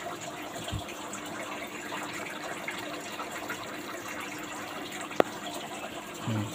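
Water poured over live crabs, starting slow and then heavier, giving a steady gushing, splashing wash at moderate level with a brief knock near the end.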